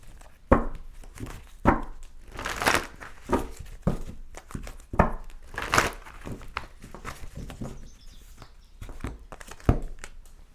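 Tarot cards are shuffled close by in irregular bursts of crisp slaps and riffling rustles, with sharp louder snaps every second or two and no talking.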